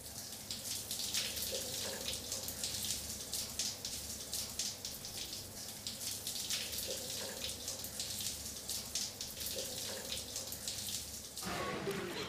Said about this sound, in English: What's going to happen when he steps into a cold shower?